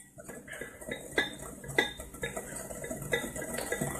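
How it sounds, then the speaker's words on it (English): Flour and sugar whisked together in a bowl for a sweet potato cheesecake, with repeated clinking scrapes of the whisk against the bowl in an uneven rhythm, close and moderately loud, with no talking. "the reason why I mix the flour and sugar together, because it won't be lumpy"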